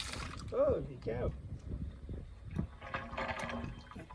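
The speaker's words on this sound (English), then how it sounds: "The tank will empty pretty quickly when you pull that pipe out." Water gushes out of a livestock water tank after its drain pipe is pulled, a rushing, splashing flow heard alongside speech and wind.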